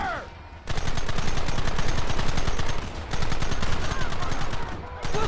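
Rapid gunfire in the Red Dead Redemption video game: dense, sustained volleys of shots from several guns, loud and continuous for about two seconds, then a brief break before the firing resumes with the same intensity.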